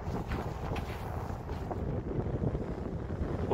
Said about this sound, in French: il y a un peu de vent mais ça va